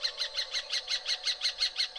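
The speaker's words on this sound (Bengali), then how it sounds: "রাত চড়া পাখিদের চমকে দেওয়া ডাক" Night birds give a rapid run of about a dozen evenly spaced, high squawking calls, loud and close, set as an effect in a horror audio story with no voices over them.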